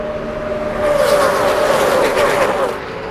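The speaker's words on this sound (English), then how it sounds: "This pack of cars here, led by Ron Hornaday in the 2" A loud roar of several NASCAR Busch Series stock cars sweeping past together at the 2004 Winn-Dixie 250, with a sustained engine whine that swells and then eases off.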